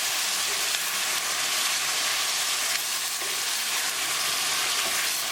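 Onions and tomatoes frying in a pan over a gas flame give a steady, loud sizzle throughout, with faint scraping of stirring beneath the continuous hiss.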